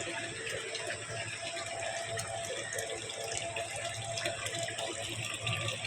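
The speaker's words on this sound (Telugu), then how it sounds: "సో నీళ్ళు చూడండి ఇంకా సన్నగానే వస్తున్నాయి" A steady, thin stream of water runs from a village tap under low water supply, continuous and moderately close, with faint background noise.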